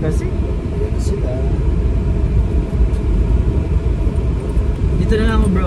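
Rush-hour road traffic rumbles continuously around a stopped car, low engine drone and passing vehicles with brief squeaks and a wavering whine near the end, with people talking over it.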